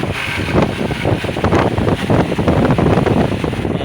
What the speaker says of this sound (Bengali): ফুল স্পিড দিলে দেখেন কত স্পিড।